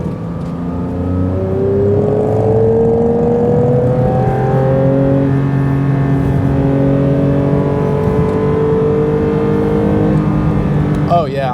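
A car engine revs hard on laps around a track, holding a loud, steady drone that rises and falls in pitch as the driver works the throttle, with a voice talking over it.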